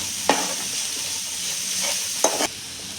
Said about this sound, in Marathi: आधी मी याच्यात थोडं मीठ घालते, आणि मीठ घातल्यावर परत एकदा परतून घेऊया